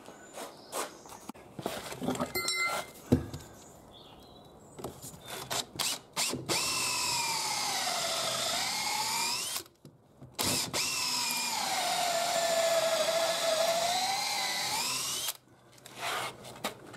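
A power drill with an auger bit bores into timber for a timber-frame garage, with short bursts and then two long sustained runs whose pitch sags under load, separated by brief pauses and handling clatter.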